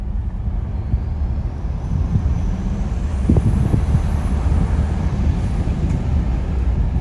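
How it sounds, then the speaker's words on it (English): A turbocharged 2022 Ford 3.5 EcoBoost engine fitted with upgraded turbos runs loud and close, a steady deep rumble with a faint high whistle over about seven seconds and no voices. "these turbos sound absolutely wild"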